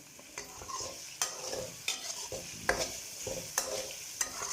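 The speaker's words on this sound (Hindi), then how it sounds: "हम लोगों ने इन चीज़ों को अच्छे तरीके से 2 से 3 मिनट के लिए हाई फ्लेम पर फ्राई करना है।" Vegetables for samosa filling stir-fried over a high flame, a soft steady sizzle punctuated by a regular series of spatula knocks and scrapes against the pan, close and fairly quiet.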